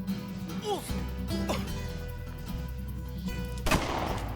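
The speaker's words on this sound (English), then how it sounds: "Shoot that bastard!" Gunfire in the action game Blood will be Spilled, with scattered dull shots under shouting voices and one sharp, louder blast near the end over a rumbling background.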